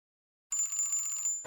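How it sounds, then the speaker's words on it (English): A bright, high electronic bell rings rapidly for about a second, a steady trilling tone that stops abruptly. "Ring the bell."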